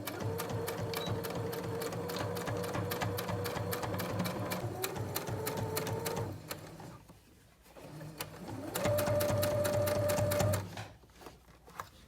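A sewing machine runs steadily, top-stitching a fabric medical mask with a fast, even needle rhythm close up, pausing briefly mid-seam before resuming and then stopping.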